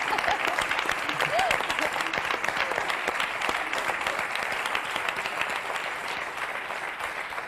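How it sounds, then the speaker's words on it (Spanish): Studio audience applause for Óscar on a 1990s Spanish late-night television show, a sustained, even roar of many hands clapping at moderate distance, with a brief voice rising over it early on. "Óscar se ha merecido un aplauso, que le damos todos, por favor"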